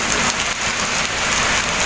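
Heavy rain pouring down at a roadside dhaba, a dense, loud, unbroken hiss of drops drumming on surfaces with no pauses.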